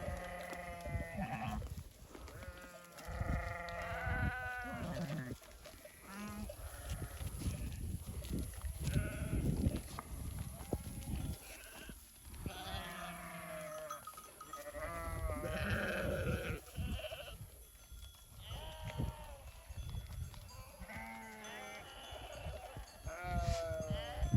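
A flock of sheep and lambs bleat back and forth at close range, many overlapping calls rising and falling continuously as they gather after grazing on dried alfalfa seed.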